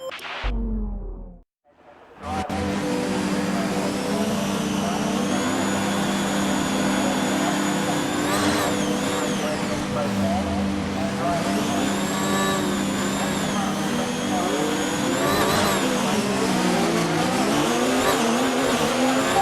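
Formula 1 car engine in a racing video game at Australia, revving loudly and steadily for most of the clip after a brief quiet gap, with rising and falling pitch sweeps as it runs up through the gears.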